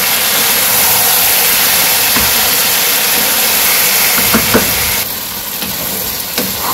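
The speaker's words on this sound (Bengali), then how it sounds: "এখন সব মশলার সাথে মাছের সাথে ভালো করে মিশিয়ে নিয়ে ভেজে নিব একটু সময়।" Fish mixed with spices fries in a pan with a loud, steady sizzling hiss. A few soft knocks of utensils come near the end, and no one speaks.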